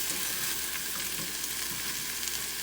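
Toasted sesame sizzles in a very hot stainless steel pan with a copper bottom, a dense, steady crackling fry heard close up and alone.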